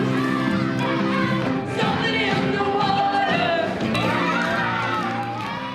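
Children's crowd noise at a free concert in a theatre, a dense continuous wash of young voices shouting and cheering with overlapping chatter throughout, steady and loud without pauses.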